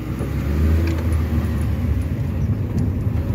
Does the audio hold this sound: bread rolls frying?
no